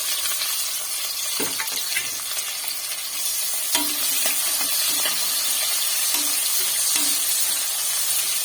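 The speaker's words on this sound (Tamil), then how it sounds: "வெங்காயத்தை நல்லா ப்ரௌன் கலராக வர வரைக்கும் வதக்கி எடுத்துக்கலாம்" Onions fry in a pan for rajma biryani with a constant close hissing sizzle, broken by occasional stirring scrapes and small clinks, with no talking.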